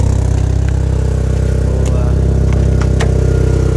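A Nissan SR20DET turbo engine swapped into a Datsun 510 runs at a steady idle, recorded up close. The rumble is loud and continuous, with no talking.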